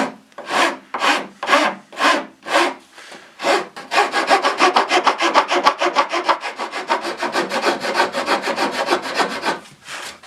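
A hand file works a wooden part from a storage cabinet build. About six separate rasping strokes come first, then a quicker, continuous run of scraping strokes. It is close and clear, with no voices.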